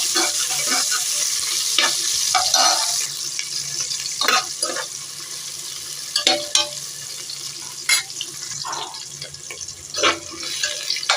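Onions and green chillies fry in hot oil with whole spices in a pan while making prawn biryani, giving a steady close sizzle broken by repeated scraping stirs of a spoon.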